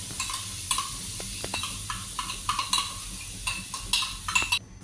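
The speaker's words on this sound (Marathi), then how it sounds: "तर आपण आता चमचा तूप टाकायचा. हा मावा आपण त्यात परतून घ्यायचा." Mawa being sautéed in ghee in a pan for dry fruit modak ladoo, with a steady close sizzle and frequent quick scraping stirs of a spoon.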